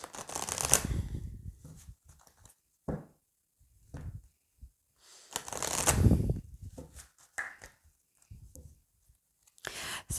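Oracle cards are shuffled and cut close by, with bursts of riffling and flicking separated by quiet pauses and soft taps of cards being set down; no talking.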